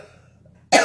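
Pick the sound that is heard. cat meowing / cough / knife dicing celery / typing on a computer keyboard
cough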